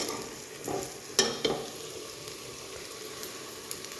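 Garlic-ginger paste fries in a pan with a quiet, steady sizzle, marked by a couple of sharp stirring clicks and scrapes.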